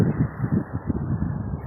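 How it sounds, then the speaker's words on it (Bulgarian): Gusty wind buffeting the microphone beside a river and waterfall near the sea in Antalya, uneven low rumbling puffs throughout, moderately loud. "Днеска е ветровито."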